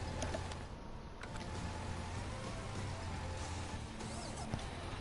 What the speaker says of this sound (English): Just go away, Rain.